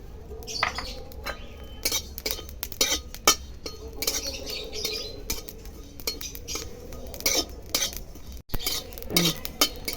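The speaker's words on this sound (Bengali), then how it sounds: "জিরে ভেজে নেবো" Cumin seeds are dry roasted in a pan without oil and stirred, giving a steady run of scraping and clinking utensil strikes against the pan, close and fairly busy, with no voices.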